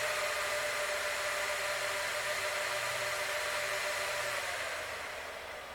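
Fans of an HP ProLiant DL360 G7 server whir at idle as a steady, airy hiss that stays constant before easing slightly at the end, with no talk.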